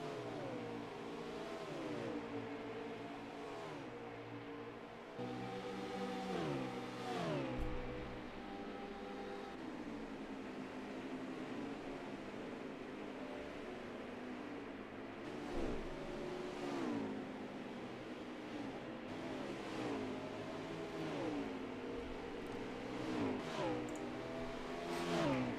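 Race car engines in a racing game, the CORE League's Sloppy Glen event, drone steadily through the whole stretch with rising and falling pitch sweeps as cars accelerate and pass, several layered at once, with no voices.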